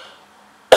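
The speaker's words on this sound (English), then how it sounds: "I don't know why I'm coughing." A single short cough bursts out at the very end after near silence, close and fairly loud.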